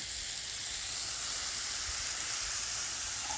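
Thin-cut beef sizzling on a flat griddle for molcajete fajitas, a steady, dense hiss of frying that holds evenly throughout with no talk.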